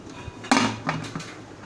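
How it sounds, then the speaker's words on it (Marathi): A sharp metallic clank as a heavy pressure cooker lid with a rubber gasket is set on the cooker, followed by a couple of lighter knocks and rattles nearby. "कुकरचं झाकण असं कुकरवर ठेवायचं"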